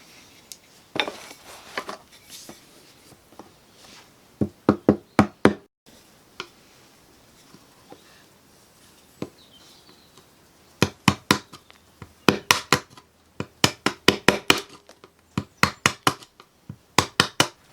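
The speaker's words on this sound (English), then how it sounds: "I'm just going to use a hammer, a very old chisel, and a scraper. So let's get on and scrape and knock all of these old bits out." A hammer strikes an old chisel to knock hardened old putty out of a window frame, producing clusters of sharp metallic taps in quick bursts separated by quieter pauses, close up.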